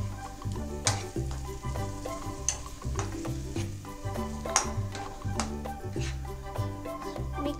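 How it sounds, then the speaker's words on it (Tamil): Ground masala paste is stirred into a sizzling fish curry in a pan, with steady frying hiss and a rhythmic scraping of the spoon against the pan, close and continuous throughout. "ஊற்றிட்டு மிக்ஸ் பண்ணிக்கோங்க."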